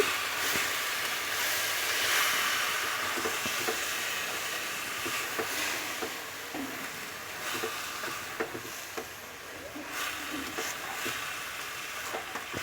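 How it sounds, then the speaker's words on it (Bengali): Cabbage being mixed with spices in a pan gives a soft, steady sizzle and hiss, broken by light irregular scrapes and taps of a spoon, fairly quiet throughout. "এটাকে ভালোভাবে মশলার সাথে মিশিয়ে নিচ্ছি"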